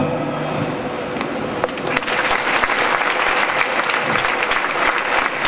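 A big round of audience applause at a college fashion show, dense and steady clapping from a large crowd that fills the whole stretch at an even, loud level.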